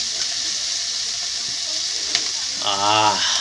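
Crab sizzling as it fries in a pan, a steady close hiss with a brief bubbling, watery burst near the end.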